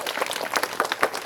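A crowd at a felicitation ceremony during a 41-day Ayyappa mandal dhyana gathering breaks into a short, dense burst of many hands clapping, brisk and close.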